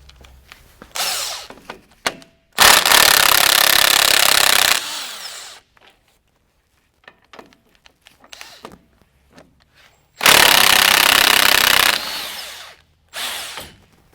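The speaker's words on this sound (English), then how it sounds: "remove the two bolts right here that's holding the shock on to the lower control arm" Power tool, likely an impact wrench, removing the two bolts holding the shock to the lower control arm on a 2007-2019 Sierra or Silverado 1500 during a 2.5-inch lift kit install. It runs in loud, sustained bursts, first around two seconds long, then again, between quieter clanks and handling noises.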